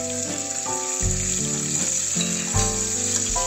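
Dried tadka chillies sizzling in hot oil for sambhar: a constant bright crackling hiss, with tonal background music playing over it the whole time.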